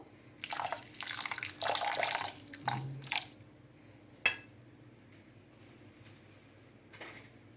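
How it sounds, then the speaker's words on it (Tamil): Water pours over sugar in a pan for sweet poori syrup, giving a splashy gush in several short bursts. A single sharp clink follows, then faint drips. "இப்போ சீனில கொஞ்சமா தண்ணி சேர்த்துக்கலாம்."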